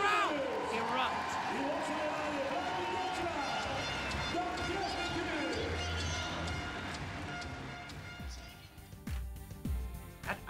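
A German crowd roaring and cheering at a judo match in Düsseldorf, a loud sustained swell of arena noise under a commentator's voice that fades toward the end.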